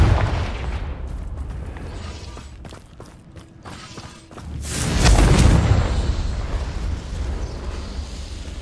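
A Confringo fire spell bursts in the Hogwarts Legacy video game, a heavy booming explosion that swells after a quieter stretch and then rumbles on and fades.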